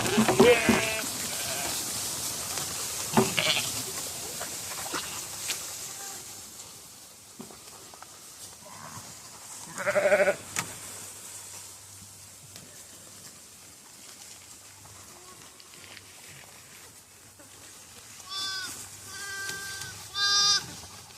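Goats on a regenerative pasture bleat several times over a low outdoor hum, with a loud close call near the middle and a burst of calls toward the end.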